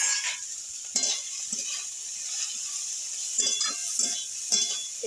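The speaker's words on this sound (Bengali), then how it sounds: "এটা পুরের জন্য আমি একটু নেড়ে চেড়ে নিচ্ছি।" Cabbage and mixed vegetables for momo filling sizzle steadily in a pan while a spoon stirs them, giving a constant hiss broken by several scraping clacks.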